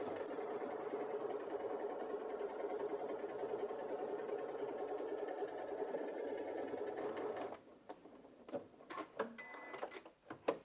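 A Janome 8200QCP sewing machine stitches through four layers of fabric at a slightly reduced speed, humming steadily and close for about seven seconds, then stops and leaves a few clicks and handling noises.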